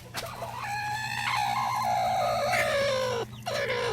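Chickens cluck and call close by in a farmyard with a brooding hen, a loud run of rising and falling squawks with a short pause before the clucking resumes.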